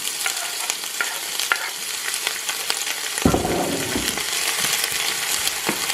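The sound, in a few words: seasonings sautéing in oil in a pan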